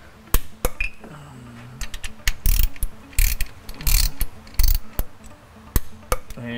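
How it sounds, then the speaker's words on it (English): A torque wrench ratcheting down differential cover bolts on a 2005 Dodge Cummins, with bursts of sharp clicking pawl ratchets and separate metallic taps, close and loud, separated by short quiet gaps. "So we're gonna torque these down."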